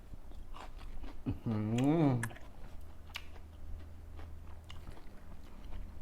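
Someone chews a bite of catfish larb with shallot, giving soft irregular close-up bites and mouth clicks; a voice speaks briefly partway through.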